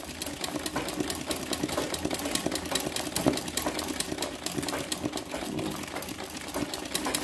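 Embroidery sewing machine stitches an apple design with a steady, fast mechanical whirring and needle clatter that runs unbroken throughout at moderate loudness.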